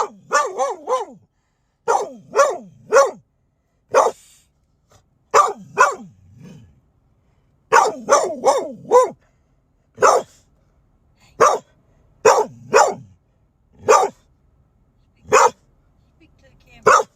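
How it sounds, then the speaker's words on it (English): Dog barking in loud, repeated bursts of two to four barks with short pauses, close by, recorded during a nighttime outing while listening to a police scanner. "I'm gonna let y'all get drowned out by his bark."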